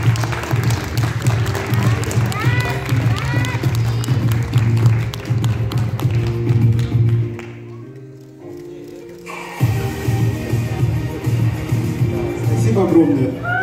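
Audience applause at a ceremony handing out referrals to a children's short film festival, a dense clapping wash over music and voices that dips briefly in the middle before swelling again.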